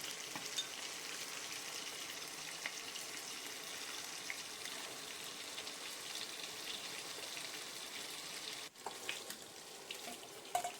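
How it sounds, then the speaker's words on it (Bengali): Pointed gourd and potatoes fry in hot oil in a pan, a continuous soft sizzle and crackle with occasional stirring clinks, heard close but at low volume. "এই তেলটার মধ্যে আমি পটল আর আলুগুলো ভেজে নিলাম"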